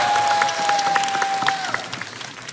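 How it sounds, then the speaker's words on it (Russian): Applause from the crowd at a fight event, greeting the fighters Oleg Mongol and Ruki-Bazuki as they are announced. Dense, steady clapping fills the whole stretch, with a thin sustained whistle-like tone running through the first part. "Под ваши аплодисменты"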